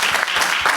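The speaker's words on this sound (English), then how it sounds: "So I want to just give them a round of applause for the great work." Audience applause at a launch event in Jamaica, a dense burst of clapping that fills the brief moment, fairly loud and steady without voices.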